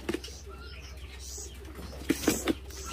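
Caged Chinese hwamei laughingthrushes call from nearby, giving a few short, sharp notes clustered toward the end over a low steady background hum.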